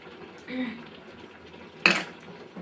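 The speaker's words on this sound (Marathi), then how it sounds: "आणि प्रॉपर याला मिक्सअप करून घेऊया." Carrot halwa with almonds and ghee is stirred in a pan, giving soft scraping at first and then one sharp metallic clatter of spoon against pan partway through, set against a quiet kitchen background.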